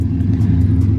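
A Chevrolet Silverado 5.3 V8 with a big cam revs under full throttle, a deep, loud, steady low rumble held close for about a second.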